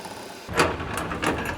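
A handle on an HFD 100 rivet nut tool is pumped to set a rivet nut into sheet metal during a roll cage pad install on a 60-66 GMC C10, giving three sharp mechanical clicks over a steady background hiss.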